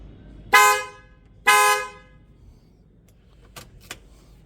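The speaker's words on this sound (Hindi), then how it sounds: "तो ये इसका हॉर्न है" A Hyundai i20 Sportz car horn, a 2022 model fitted with a new aftermarket horn, gives two loud, bright, separate honks, each about half a second long, followed by a few faint clicks.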